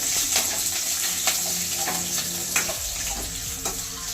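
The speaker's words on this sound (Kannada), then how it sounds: "ಯಾಕಂದ್ರೆ ಕರ್ಬೇವಿನ ಸೊಪ್ಪು ಚಟಪಟ ಚಟಪಟ ತಿಳಿಬೇಕು" Curry leaves crackling in hot oil in a pan for chicken pepper dry, a steady close sizzle with sharp pops and spatters scattered throughout, no talking.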